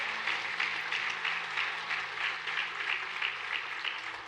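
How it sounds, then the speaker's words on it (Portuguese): Church congregation at a worship service applauding, a steady wash of clapping from many hands, moderately distant and continuous with slight swells. "Uma salva de palmas por essa palavra"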